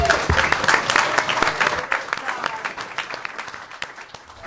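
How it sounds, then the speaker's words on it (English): Round of applause for a guest at a pinball gathering: dense clapping from an audience starts loud and gradually thins and fades over several seconds, with scattered voices mixed in. "Let's everybody give Todd Tucky a round of applause."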